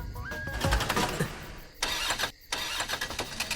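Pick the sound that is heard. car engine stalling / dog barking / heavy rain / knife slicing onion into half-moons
car engine stalling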